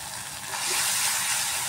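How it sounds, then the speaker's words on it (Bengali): Curry masala cooking down with sour yogurt in a pan for an egg kofta curry, giving a steady close hiss of steam and sizzle that swells slightly partway through. "টক দই দিয়ে আমি আরও ভালো করে একটু কষিয়ে নিচ্ছি"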